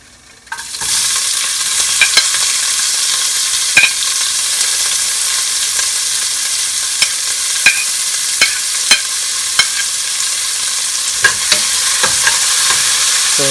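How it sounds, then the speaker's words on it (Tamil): Chopped onions fry in hot oil with mustard seeds, cumin and urad dal for a Coimbatore-style dal rice, a close, steady sizzle broken by sharp clicks of a spoon scraping and stirring the pan. "அதுக்கப்புறம் பார்த்தீங்கன்னா நறுக்கி வச்ச வெங்காயம்,"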